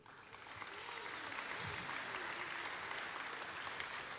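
An audience at a school awards ceremony applauds department winners, a quiet, even, sustained patter of many hands clapping with faint murmuring voices beneath it.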